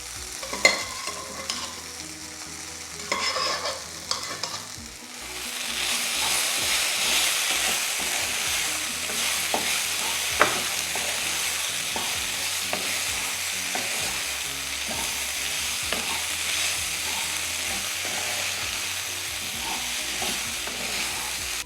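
Cooked raw banana being stir-fried in a pan over a medium flame for a Kerala-style kaya mezhukku puratti, a steady close sizzle with repeated scraping and stirring of a spoon against the pan.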